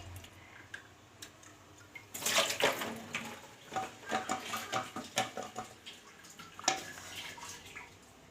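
Water running from a kitchen tap, starting abruptly partway through as a splashing gush with intermittent drips and clinks, fairly faint and without talk.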